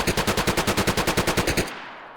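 UMP submachine gun firing on full auto in DayZ: a rapid, evenly spaced burst of about sixteen loud, close shots lasting under two seconds, then a short fading tail.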